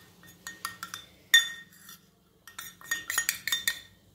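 A metal spoon scrapes and clinks against a pan while gram flour is mixed into a dry green pea mixture over low heat, giving close, irregular bursts of scraping with short pauses and no talking.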